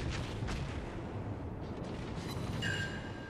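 Naval cannon fire from a Kuma cruiser in World of Warships: a continuous, heavy rumble of overlapping booms and blasts, dense and steady throughout, with no voices.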